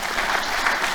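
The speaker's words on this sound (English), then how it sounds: "sure, you applaud." An audience at a member speaker talk on Ozark food breaks into brief, dense applause, a close and steady burst of clapping.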